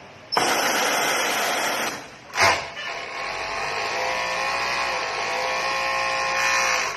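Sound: Jack C4 industrial sewing machine running, pedal-controlled

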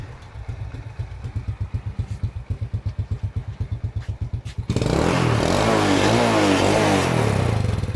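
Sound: car engine started by remote control, running

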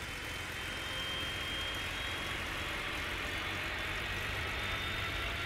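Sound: airliner engine spooling up, Tower! Simulator 3 video game

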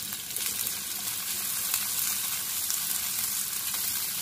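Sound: chopped onions frying in hot oil

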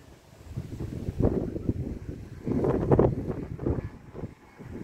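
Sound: strong wind blowing while flying a kite

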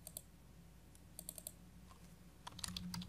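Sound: typing a message on a computer keyboard

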